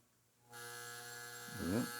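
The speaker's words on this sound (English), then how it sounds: "There you can start to hear a little humming. Maybe that's the relay back there." Power supply relay on a Beckman Duostat gives off a steady electrical hum that starts abruptly and holds constant, swelling slightly louder near the end as the voltage is turned up.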